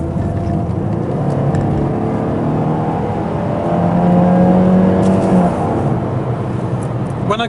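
A Mercedes 200 saloon driving, a steady interior engine drone with a smooth rise in revs as it accelerates midway, then settling back, heard from inside the car without talk.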